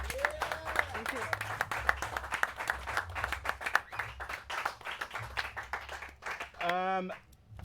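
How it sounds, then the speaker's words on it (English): Audience applause at a live-streamed Anthem gameplay event at Paris Games Week, sustained clapping from a crowd for several seconds with a voice speaking over it near the end. "Round of applause, ladies and gentlemen."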